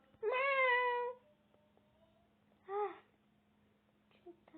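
Two short meows from a cat in the video game Toca Life World, the first longer and wavering, the second brief, followed by a faint chirp, with an electronic hum underneath.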